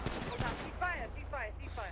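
A video game shootout with police during an attempted prison transport break, with dense crackling gunfire throughout and voices talking over the shots.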